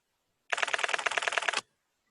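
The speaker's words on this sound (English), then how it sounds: "Somebody's typing." Rapid typing on a keyboard during a small business Q&A call, a steady run of crisp, even clicks lasting about a second, fairly close and alone with no voices.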